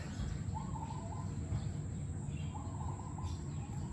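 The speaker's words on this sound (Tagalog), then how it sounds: "ang dami-daming ibon ngayon" Bird chirps come through faintly in short bursts over a steady low rumble of background noise, with a few calls scattered across the scene.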